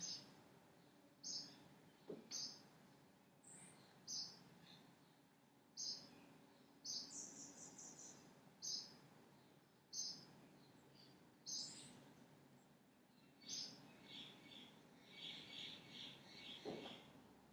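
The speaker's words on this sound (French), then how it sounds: "Peut-être vous entendez les oiseaux ici." Birds call repeatedly outdoors near the sea in short sharp chirps at a regular pace, fairly distant and soft against a quiet background.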